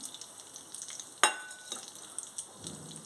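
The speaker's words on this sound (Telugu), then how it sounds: "ఆయిల్ హీట్ ఎక్కింది. ఆవాలు, జీలకర్ర వేసేసుకుంటున్నాను." Mustard seeds and cumin sizzling in hot oil, a quiet steady crackle with a sharp pop near the start and scattered light spatters, close and without talk.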